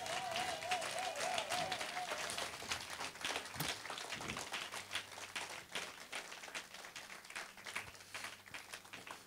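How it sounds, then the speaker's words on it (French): A church congregation claps in praise of the Lord, dense and continuous applause with a crowd murmur beneath, moderately distant and lasting throughout. "Je vois ma fille Amélie qui acclame avec joie"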